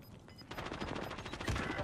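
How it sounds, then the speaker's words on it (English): Sustained automatic fire in the Warzone video game, a steady rattling stream of close, loud shots that carries through the whole short stretch without pause. "I'm getting shot from behind."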